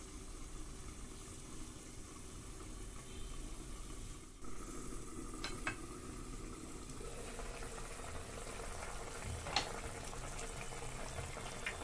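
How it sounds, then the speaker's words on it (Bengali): Rui fish curry simmering in a pan, a steady faint bubbling hiss that continues without a break, with a couple of soft clinks partway through. "তরকারি সেদ্ধ হয়ে গেছে, মাছটা দিয়ে আমি একটু ফুটাবো।"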